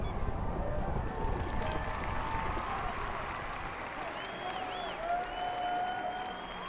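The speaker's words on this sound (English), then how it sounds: "There are people cheering after all." A crowd cheers and claps in the Casanova: The Duel of the Black Rose video game, set in Venice, a steady wash of applause and voices heard at moderate distance with faint tonal sounds above it.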